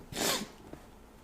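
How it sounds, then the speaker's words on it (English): A short, breathy blast of someone blowing their nose, followed by a faint sniff, close by with no talking. "Sorry, I gotta blow my nose."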